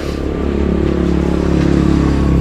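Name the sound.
motorcycle engine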